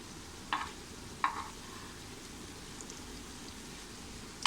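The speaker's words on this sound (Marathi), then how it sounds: "आता अशाच प्रकारे दुसरी बाजूसुद्धा आपण भाजून घेऊया अशी छान" Raw banana slices fry quietly in a pan, a soft steady sizzle broken by a few sharp clicks and scrapes as pieces are turned.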